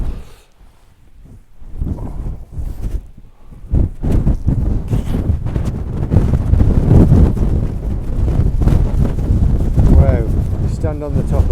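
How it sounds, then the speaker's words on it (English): Strong, cold wind blasts across the open Cheviot ridge on the Scottish–English border, battering the microphone in rough, irregular gusts that start lighter and build into a loud, sustained roar. "So windy and cold."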